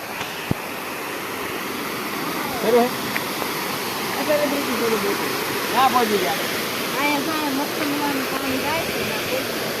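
A waterfall near a farm gives a steady broadband rush of falling water that runs through the whole stretch, with a few faint voices talking over it.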